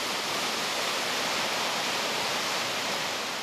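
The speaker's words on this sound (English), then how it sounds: "to go down and watch the massive amount of water going through." Massive Arctic meltwater rushing through during a record meltdown, a dense, unbroken roar that is loud and steady throughout with no voices.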